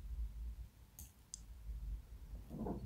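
Two quick mouse clicks on a computer during an Excel session, faint and close, over a quiet room hum with a soft rustle near the end.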